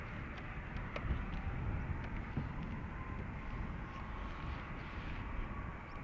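An Airbus A321neo at Dublin Airport produces a faint, distant, steady broadband engine roar that holds evenly through the whole stretch with no talk.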